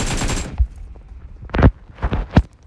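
Gunfire in PUBG Mobile: a loud, dense burst at the start, then several sharp single shots spaced apart. No voices are heard.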